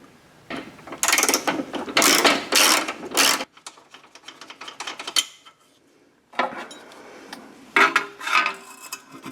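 A hand ratchet clicks in quick bursts while removing a bolt from the front subframe of a BMW E32 735iL, sharp rapid metallic ratcheting strokes separated by short pauses and quiet handling noises.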